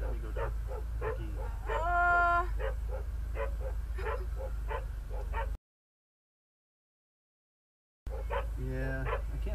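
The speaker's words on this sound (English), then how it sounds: "there's a lot of dogs" Multiple dogs bark and whine repeatedly at mid distance, with drawn-out whimpering howls among the yips over a low rumbling background, broken by a few seconds of silence.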